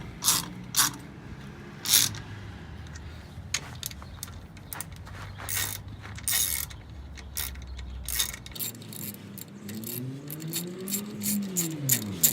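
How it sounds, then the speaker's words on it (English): Wheel adapter nuts on a Chevy truck being tightened one at a time in a crisscross pattern, with repeated short metallic ratcheting clicks and scrapes close by, no talking. "now you're gonna want to push it in and tighten one at a time, but diagonally or crisscross"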